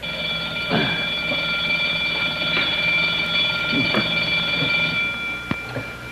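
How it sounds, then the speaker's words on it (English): A steady electric bank alarm bell rings continuously at a constant level, with a few faint knocks and clatters underneath. "The alarms are functioning perfectly all over the bank."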